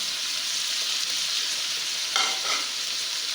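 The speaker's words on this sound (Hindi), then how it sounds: "तो अब मैं इसके अंदर ऐड कर रही हूँ टमाटर।" Chopped tomatoes fry with chicken and onions in a pan, giving a loud, steady close sizzle with a short burst of stirring or scraping late on and no speech.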